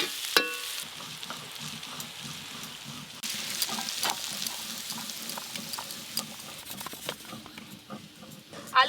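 Potatoes and yardlong beans frying in oil with ground spices, a soft continuous sizzle with occasional clinks and scrapes of stirring, close and fairly quiet with a little talk.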